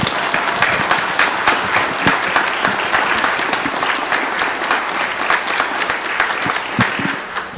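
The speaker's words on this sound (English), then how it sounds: "So let's give Mike a big round of applause." An audience at a city council meeting applauds, a loud, sustained burst of many hands clapping at close range that holds steady throughout.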